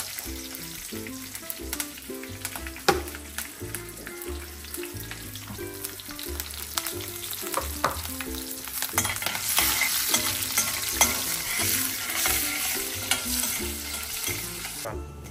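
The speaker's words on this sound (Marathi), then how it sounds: "आता मिरचीला फोडणी बसली ना" Green chillies crackling in hot oil with curry leaves for a tempering while cooking a village-style pithla, a continuous busy sizzle with sharp pops that grows louder and denser midway, close up with no talk.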